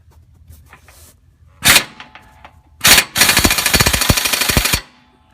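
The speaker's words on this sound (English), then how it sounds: "I'm taking my 15mm deep socket and taking off the 2 bolts on this side and the other 2 bolts on this side" A 15mm deep socket on a power wrench loosens bolts beneath a Ford F-150 during automatic transmission removal. Two short, sharp bursts come first, then a longer rapid rattling run of about a second and a half, close and loud.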